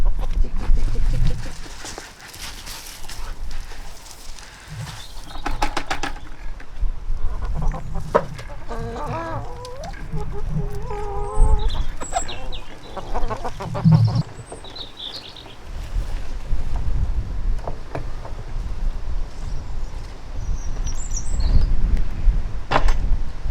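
Backyard chickens cluck and murmur on a wintry homestead among kale and leftover sprout stalks, several birds close by with scattered calls over outdoor rumble, while a person talks at times.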